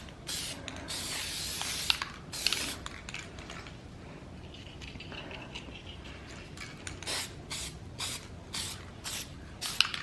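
Short bursts of Castin' Craft resin spray hiss from an aerosol can onto a disc, a series of bright spritzes of varying length with quiet pauses between, set against faint background noise from nearby construction.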